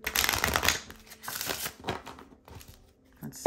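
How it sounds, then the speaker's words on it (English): Tarot cards being shuffled by hand at close range, a dense papery riffling that rises and falls in bursts, busiest in the first second and thinning toward the end. "this is all gonna be live shuffling"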